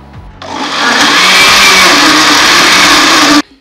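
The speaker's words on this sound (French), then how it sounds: "je vais donc découper ma tomate directement dans mon mixeur." A kitchen blender chops tomato for tomato sauce, starting up abruptly into a loud, steady whirring roar that holds for about three seconds and then cuts off sharply.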